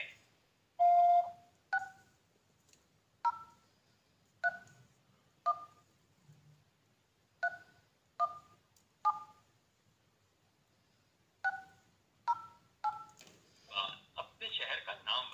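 Telephone keypad tones on an automated registration line for a Tapal tea promotion: a long beep, then ten separate key presses in an uneven rhythm, ending in a burst of noise.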